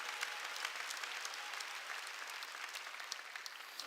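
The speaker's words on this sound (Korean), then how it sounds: "빨리 박수로 하나님께 영광 돌려서" A church congregation claps together during a sermon, a dense, even, sustained burst of applause filling the space without a break and with no voices over it.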